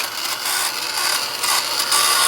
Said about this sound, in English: My Tim Holtz Quiet dryer is not exactly quiet.